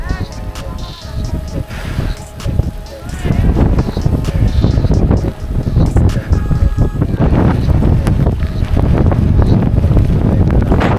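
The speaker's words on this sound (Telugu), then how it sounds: "ఈ గాలి అసలు చాలా గాలి ఉంది పైన" Strong wind on the Vanjangi hilltop near Paderu in the Araku area, on a cold, rainy day, buffets the microphone with loud, rumbling gusts that run almost nonstop while a person talks over it.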